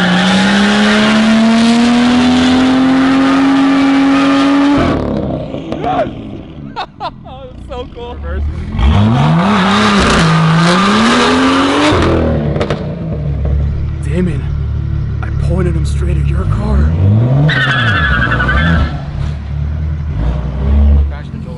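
A Lamborghini Murcielago doing a standing burnout, its engine revving repeatedly and tires squealing, loud and close, with people talking and shouting over the noise.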